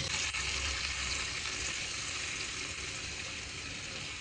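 Meat slices fry in butter or oil, a dense, steady sizzle held at even loudness throughout with no talking.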